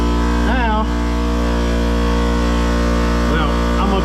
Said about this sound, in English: My compressor will cut off here in a minute.